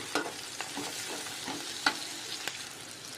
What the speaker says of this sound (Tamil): அதனால தான் காலையிலே பிள்ளைங்களுக்கு துவையில் அரைச்சி வச்சுட்டு போகலான்னு வதக்கிட்டுருக்கேன்.